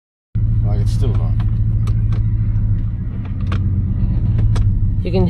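A vehicle on the corrugated Gibb River Road rumbles loud and close from the cabin, with intermittent clunks and rattles from underneath breaking through the steady low drone.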